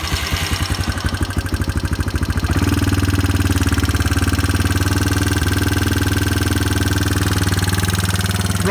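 A Yamaha quad ATV engine runs close by, starting with a rough, pulsing chug for a couple of seconds before settling into a loud, steady idle drone that holds for the rest of the clip, with no talking.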